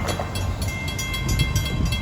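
A diesel commuter train on the Long Island Rail Road passes New Hyde Park in the evening rush hour, a steady close rumble with rail and engine noise that holds at an even level throughout.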